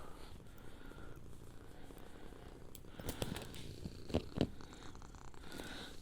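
A cat purrs softly and steadily up close, a low continuous rumble with a few brief rustles and clicks near the end.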